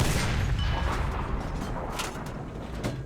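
A tank's main gun fires in the War Thunder video game, a close, heavy boom at the start that decays into a rumbling tail, with a few fainter mechanical clanks after it.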